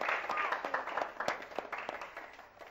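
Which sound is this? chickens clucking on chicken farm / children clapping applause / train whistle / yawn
children clapping applause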